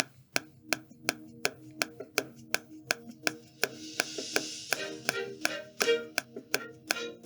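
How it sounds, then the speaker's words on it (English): Steady metronome clicks tick at an even pace, about two per second, joined midway by a bright hissing wash of music that swells underneath. "as we hit play, you can hear the click track"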